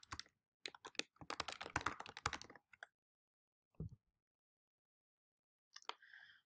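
Keystrokes on a computer keyboard entering a Gmail login, a dense burst of quick clicks with a few scattered taps after a pause, close and fairly quiet.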